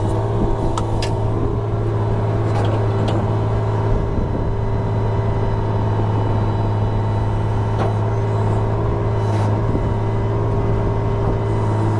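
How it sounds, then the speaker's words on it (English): A Mercedes Unimog FLU419 SEE tractor engine runs at raised RPM with a steady loud droning hum, occasional clicks and hisses from the machine breaking through, and no talking. "I'm going to turn my engine RPM up here."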